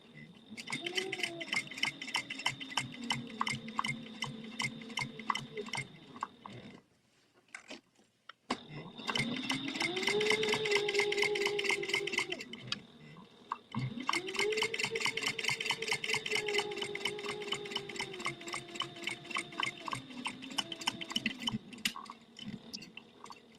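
A sewing machine top stitches a narrow eighth-inch seam on a wristlet, humming in three long rhythmic runs with rising and falling motor pitch and brief pauses between them.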